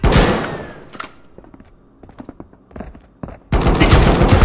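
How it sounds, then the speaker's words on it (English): Gunfire in a shooter video game, loud bursts and scattered single shots with sharp thuds, fading to sparse cracks before a dense roaring volley returns at close range. "Yeah, with a Bren gun"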